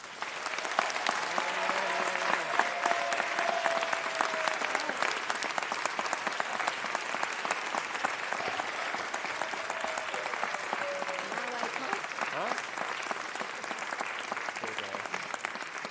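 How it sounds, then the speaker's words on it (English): Audience applause at a Los Angeles Jewish community gathering, dense sustained clapping from a crowd filling the room, steady and fairly loud throughout, with faint voices underneath. "So please join me in a round of applause for Sidonia."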